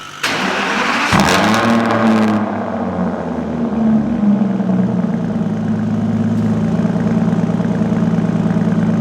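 An Aston Martin Rapide fires up with a loud, brief starter whir and a bark of revs, then drops to a steady, deep idle that stays smooth and even close by.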